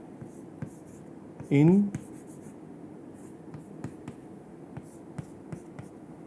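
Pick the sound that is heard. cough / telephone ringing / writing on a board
writing on a board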